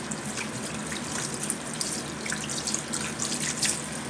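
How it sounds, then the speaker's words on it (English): Water running steadily from a sink tap while hands are rinsed, a close, continuous splashing gush with small irregular splatters, no talking. "Let me rinse my hands here."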